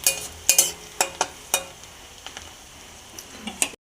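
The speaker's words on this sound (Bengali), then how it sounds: "পেঁয়াজটা প্রায় ভাজা হয়ে গেছে" Onions with cumin, coriander, cardamom and cinnamon frying in a pan, with a soft sizzle under several sharp spoon-against-pan clinks and scraping stirs, close by.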